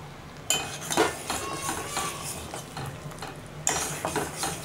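A spoon scrapes and clinks in a pan as lime juice is stirred into sugar syrup for sugar candy, with a steady busy stirring rhythm close by.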